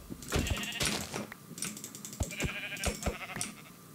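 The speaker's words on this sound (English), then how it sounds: "Sheep!" Minecraft sheep bleat in short wavering calls mixed with quick clicky game sounds, fairly quiet and spaced out.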